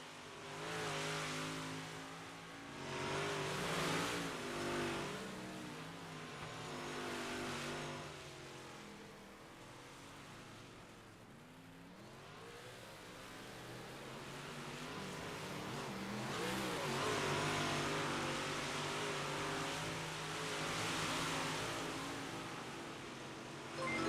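A race car, the M7 machine, runs laps at Lernerville Speedway during a Thursday night event, its engine roaring steadily and swelling loud as it passes, then fading and building again over roughly twenty seconds.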